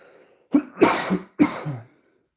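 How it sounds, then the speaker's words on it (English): A person coughs three times in quick succession, close and fairly loud, then falls quiet. "Sorry for the cough."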